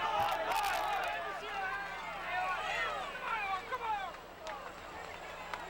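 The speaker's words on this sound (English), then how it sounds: "you can even hear the crowds shouting in English at the riders" Crowd at the 1995 Tour of Flanders cycling race on the climb, many spectators shouting and cheering at passing riders, a busy babble of overlapping yells at mid distance with a commentator talking over it.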